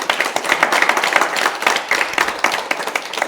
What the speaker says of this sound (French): Nous allons faire beaucoup d'applaudissements pour Madame Wango.